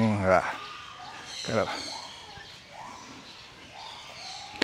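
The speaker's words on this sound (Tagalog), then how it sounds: "maraming ibon dito sa kalagitnaan kaya medyo maingay." Several birds call and chirp in the background at a zoo, a busy outdoor chorus with faint voices mixed in.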